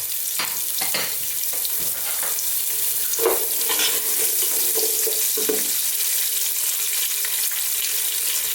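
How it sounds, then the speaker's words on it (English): Onions and carrots fry in a pot for beef stew, giving a steady loud sizzle. Several stirring clatters and scrapes come over the first half and then give way to continuous frying. "in goes our onions. And I'm now going to put in my carrots."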